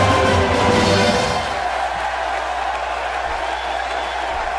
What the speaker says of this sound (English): As the crowd settles here at the Fiserv Forum